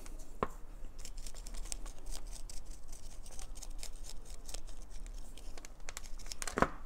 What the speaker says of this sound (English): I'm just using the scissor